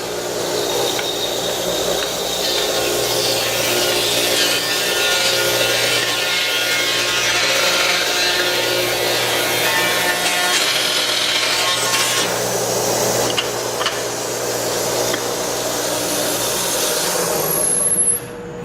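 A loud, continuous machine cutting through wood, a steady grinding roar with no breaks, cutting off abruptly near the end.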